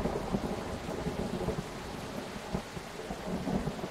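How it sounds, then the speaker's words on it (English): Rain and thunder in the virtual reality game Orbus VR, steady dense rainfall hiss with low rumbling, continuous and fairly loud, no voices. "I do like the sound of rain, so I'm glad they used real rain and not like an artificial rain sound."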